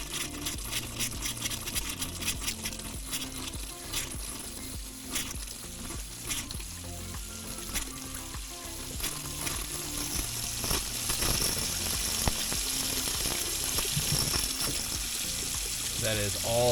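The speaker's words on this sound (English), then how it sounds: "That is a crazy amount of air and water flow." Hot and cold water run from a tap on a boat after the hot water tank is bled, a steady loud rush with sputtering air bursts, continuous and close.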